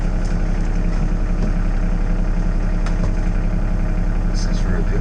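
A sailboat's inboard engine idles steadily on the Solent, a continuous low throbbing hum that runs unbroken under the cabin's faint background noise.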